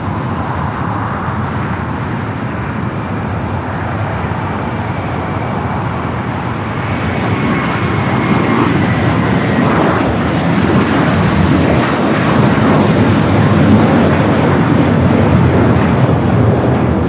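An American airliner departing Los Angeles LAX for Dallas gives a loud, steady broadband jet roar that swells a little halfway through, with wind rumble on the microphone and no talk.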